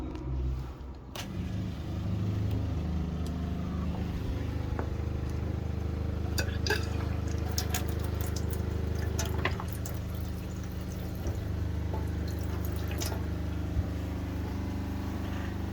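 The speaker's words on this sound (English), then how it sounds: "Turn on the water pump now." A steady low mechanical hum from a running RV water pump, with scattered drips and trickling water from a leaking Truma water heater over it, continuous throughout.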